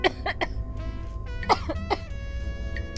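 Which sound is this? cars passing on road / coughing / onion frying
coughing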